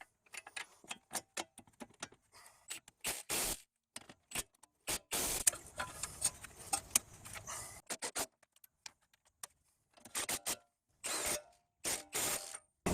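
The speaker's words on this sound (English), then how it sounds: "We'll put a jack underneath the steering knuckle to raise up the knuckle" A jack is pumped to raise the steering knuckle of a Toyota during CV axle replacement, bursts of close ratcheting clicks and metallic clunks separated by short quiet gaps.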